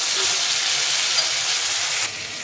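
Chopped tomato dropped into hot oil with tempered spices, a loud, even, close sizzle and hiss that continues steadily, dipping slightly at the end, with no voices.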